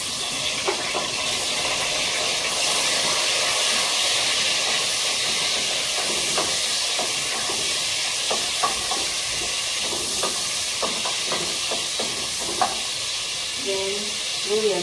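Tomato, garlic, onion and ginger sizzling in hot oil, a steady bright hiss and crackle with occasional stirring clinks and pops, close and continuous.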